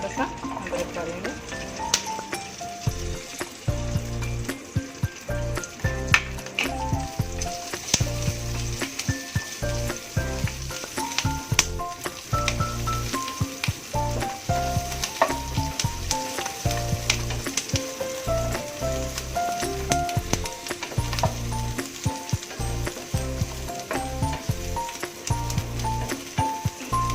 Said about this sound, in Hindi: ये लहसुन डालेंगे और थोड़ा सा अदरक डालेंगे